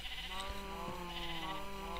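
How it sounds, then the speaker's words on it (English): A sheep in the game Minecraft bleats softly a couple of times, faint and steady with no talk over it. "Hello, sheep."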